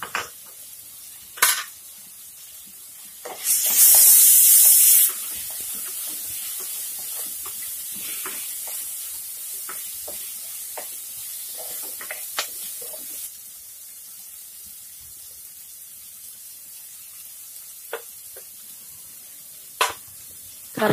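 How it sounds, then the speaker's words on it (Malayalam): Curry leaves and green chilies hit the hot oil of a pan of fish curry made with mango and drumstick, giving a steady sizzling hiss with a loud spitting burst early on, plus a few clinks of a utensil against the pan. "കറിവേപ്പിലയും പച്ചമുളകുമാണ് ഇപ്പോൾ ചേർത്തത്."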